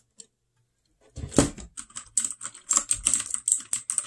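Fast typing on a Royal Kludge 61 mechanical keyboard, close up, with rapid crisp clacky keystrokes in quick irregular bursts after a brief quiet start.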